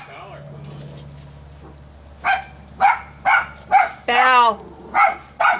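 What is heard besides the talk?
dog barking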